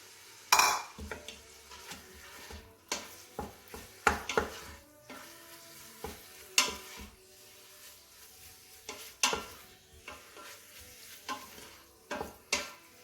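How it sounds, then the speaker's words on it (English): Ground beef for chili cooking in an Instant Pot on the saute setting, a low sizzle under repeated clinks and scrapes of a utensil against the pot, close and irregular, with no talking. "So what I did with my Instapot is I put it on saute first, so I can do the first part of my chili."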